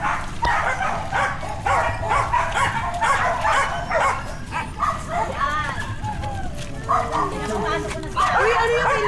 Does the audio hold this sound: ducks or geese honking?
no